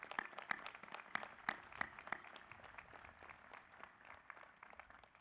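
Graduation-ceremony crowd on an outdoor lawn gives a round of applause, faint and distant, with crisp scattered claps thinning out over several seconds.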